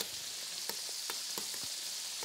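Fish and onions sizzling in a pan, a soft, steady frying hiss scattered with small pops and crackles, fairly quiet and with no voices.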